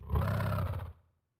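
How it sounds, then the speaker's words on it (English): A Hunden roar emote from the video game Insignia: a single loud, deep, growling roar lasting close to a second, then cut off into silence, heard alone. "But that's the like emote sound that we talked about."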